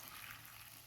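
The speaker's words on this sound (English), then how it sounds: "we're going to take and put 1 cup into our liquid measuring cup, and we're going to pour that" Boiling water pours from a liquid measuring cup over bran in a kitchen, giving a faint, steady one-second splash and trickle with no voices.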